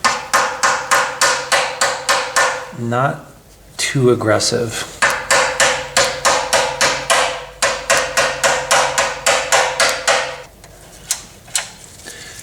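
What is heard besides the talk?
hammering engine part with makeshift dead blow hammer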